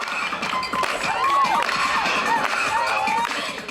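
A lively crowd at a hip-hop performance in Louisiana cheers and shouts with scattered applause, a dense wash of voices and whoops filling the background continuously.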